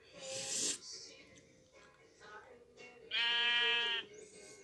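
Sheep in a video game bleat several times, two animals calling in drawn-out, wavering cries of varying length, the last one long and loud, over quiet game background.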